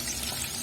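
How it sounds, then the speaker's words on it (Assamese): Fish frying in hot oil in a home kitchen, a steady close sizzle with fine crackling texture that holds evenly through the whole short moment, no voices. "এতিয়া মাছ ভাজিব লৈছোঁ মই"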